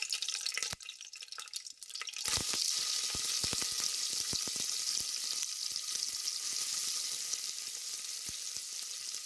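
Onions hit hot oil for bagara rice with a sudden burst of loud, hissing sizzle and crackling pops, then settle into a dense, steady frying hiss with scattered spits, close and with no talk.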